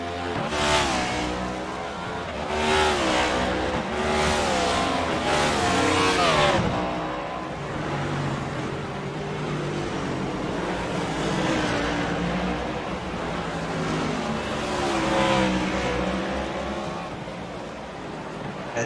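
Ford race cars from a racing video game lap the Charlotte Roval, engines revving and shifting loudly as several cars pass in a steady roar, with a commentator talking over them.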